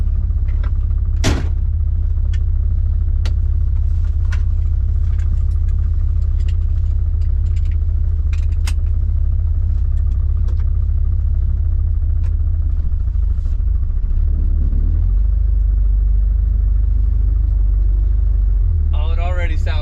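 A 1963 Chevrolet Corvair engine on its first road drive, a loud, steady low rumble that continues throughout with scattered clicks and knocks and a brief sharp crack early on.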